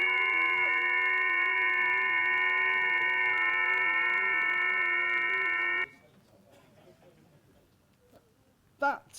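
FT8 digital-mode radio signal: a dense stack of steady, simultaneous electronic tones sounds loud and continuous for about six seconds, then cuts off abruptly, leaving faint room noise and a brief sound near the end.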